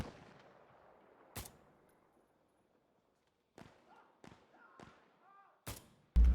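Semi-automatic gunfire in a shooter video game: sharp single shots spaced a few seconds apart, with one near the start and a cluster of four toward the end, plus a loud final blast. Soft background game noise sits between them.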